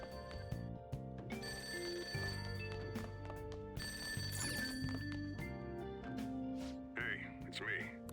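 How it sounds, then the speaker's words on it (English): A telephone rings downstairs in a Persona 5 Royal scene, heard over the game's steady background music with a bell-like repeating tone. "That ringing sound isn't coming from my cell phone."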